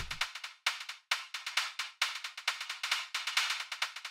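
A gritty, distorted hi-hat plays a busy syncopated pattern, with hits that open up and ring longer at times, loud and alone.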